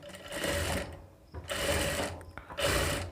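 A sewing machine stitches a strip onto the front neckline of a boat neck blouse in three loud, steady running bursts, with short quiet pauses between them.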